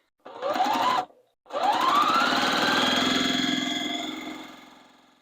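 A sewing machine stitches quilt fabric strips together, making a short whirring run, a brief pause, then a longer steady hum that winds up in pitch and slowly fades as it stops.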